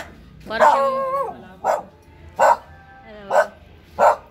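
A pet dog barks five times, close and loud: one longer, drawn-out bark first, then four short, evenly spaced barks.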